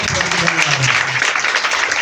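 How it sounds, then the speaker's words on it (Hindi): Church congregation clapping loudly after a healing testimony, a short dense burst of applause with a voice faintly underneath. "इस बड़ी गवाही के लिए जोरदार ताली बजाएं"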